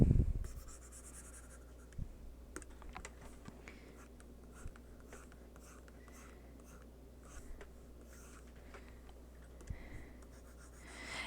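Pencil scratches and strokes on paper while a human face is drawn, a close, quiet, continuous scraping broken by a few sharper taps and brief pauses.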